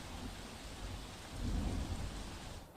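Heavy rain pours steadily over rural Ahmedabad in Gujarat as thunder rumbles low beneath it, swelling loudest midway through, with no voices present.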